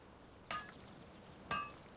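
Crafting an arclight spanner in World of Warcraft Classic brings two quiet, sharp metallic hammer clinks about a second apart over faint background.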